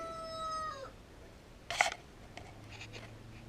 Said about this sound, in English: I think the rooster wants to be fed.